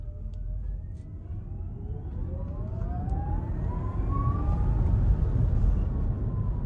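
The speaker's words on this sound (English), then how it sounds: "And now this is supposed to be enhanced electric motor sound." A Genesis GV60 electric car plays its enhanced electric motor sound, a rising synthetic whine that sweeps upward in pitch over a low, steady hum from inside the cabin.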